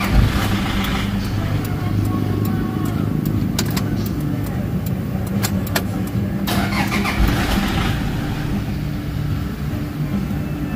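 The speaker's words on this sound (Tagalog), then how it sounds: "Start natin makina." A Toyota Fortuner with low power, a stalling fault and revs stuck around 1,500 to 1,800 rpm is cranked and runs, its engine rumbling steadily close by with clicking and clatter over it throughout.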